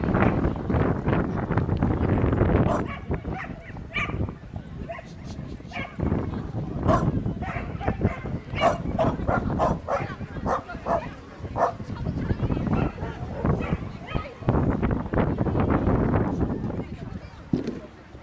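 Dogs barking and yipping during a dog show class outdoors, repeated barks scattered through steady background chatter and wind rumble, with people talking nearby.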